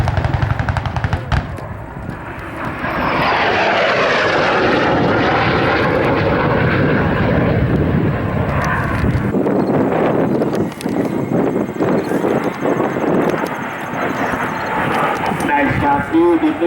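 MiG-17 jet with swept wings accelerating during an airshow display at Waukegan, Illinois, a loud rising engine roar sweeping past and lingering, with an announcer's voice over the public address.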